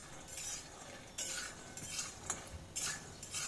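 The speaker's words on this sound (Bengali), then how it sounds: "বাদামগুলো ভাজা হয়ে গেছে," Peanuts roasting dry in a pan are stirred with a utensil, giving scraping, rattling strokes in irregular bursts with a few sharp clinks against the metal. No one talks.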